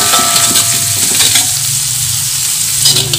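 Oyster sauce and sweet soy sauce being stirred in a hot pan for a glass noodle filling: a constant loud sizzle with scraping stir strokes of the spatula, close up and with no talking.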